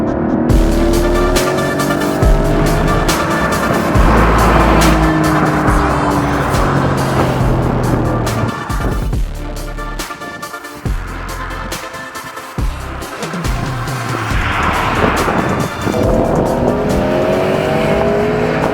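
A Porsche 911 GTS T-Hybrid accelerating hard, its engine roaring and climbing through the revs with quick gear changes and a brief lift midway, loud and close, with a tire squeal and no talking.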